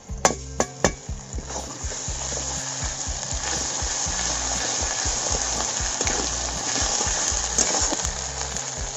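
Onions with ginger-garlic paste frying in a pan for Bengali fish kalia, a steady close sizzle with a few sharp knocks of a spoon against the pan near the start, and no talking.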